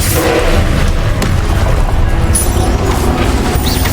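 A blasting curse explosion in the video game Hogwarts Legacy during spell-heavy combat: a loud, continuous roar of booming blasts and crashes throughout, no talk.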